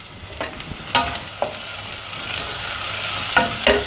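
Steady oil sizzle of shallots and garlic frying, with a few scraping stirs, close by and fairly loud, no voices.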